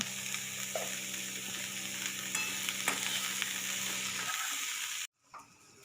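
Finely chopped onions sautéing in a pan for a chicken handi, a dense, steady sizzle with occasional light stirring clicks, cutting out abruptly near the end.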